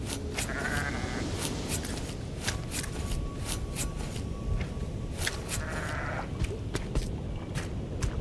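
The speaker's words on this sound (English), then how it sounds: "So, black sheep." Sheep bleat several times in a farming area in the sky-island survival game Aloft, over steady game ambience and repeated soft clicks, with no one talking.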